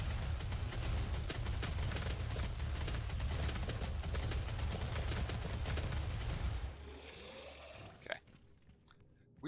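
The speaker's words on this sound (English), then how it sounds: "Got my industrial orange chain gun here." An industrial orange chain gun in the video game Doom SnapMap fires a dense, rapid stream of shots for about six seconds, then stops, leaving a few faint thuds and clicks.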